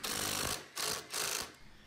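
A power driver spins screws into a workbench caster plate, three short whirring bursts separated by brief pauses, close and fairly loud.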